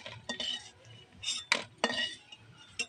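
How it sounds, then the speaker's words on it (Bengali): Fried bitter gourd fritters are lifted one by one onto a plate, giving a few sharp metallic clinks and scrapes of a utensil against the pan and plate, close up and spaced irregularly over a quiet background. "এবার আমি একটা একটা করে প্লেটে তুলে নেব।"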